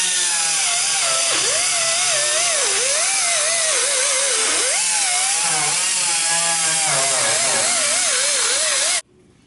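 An abrasive sanding disc grinds against the bodywork of a 1987 Kombi, a loud, continuous whine that wavers in pitch as the load shifts, then cuts off abruptly near the end.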